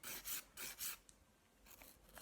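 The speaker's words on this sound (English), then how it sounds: "then you just keep filing" Nail file rasping off hard gel nails in short, brisk strokes, two quick pairs and then softer, lighter passes, close up and quiet, with no speech.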